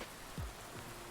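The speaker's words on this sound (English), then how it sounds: "I can't do anything today because it's raining." Steady soft rain hiss in the Hundred Days winemaking simulator game, a constant low-level patter with one brief low thump, no voices.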